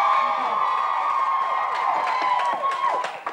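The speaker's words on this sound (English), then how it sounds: "Give him a round of applause." A studio audience on a Saturday-morning children's TV show claps and cheers for a game contestant, a bright mix of applause and excited shouts over a held musical tone, tapering off near the end.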